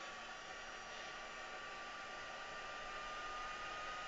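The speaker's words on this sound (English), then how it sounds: "let's get my heat embossing tool and warm my hands up again" A heat embossing tool blows a steady, unbroken whoosh of hot air throughout, fairly faint and even, with no voices.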